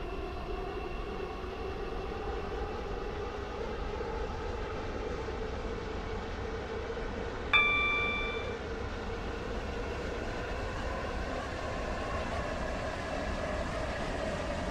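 A Stepford County Railway metro train in Roblox runs steadily with an even, continuous rumble, and a brief bright chime or squeal sounds midway.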